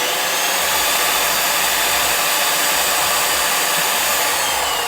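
A Flex cordless rotary polisher runs at a steady, loud whirring drone that holds without a break from start to finish, with no talking over it.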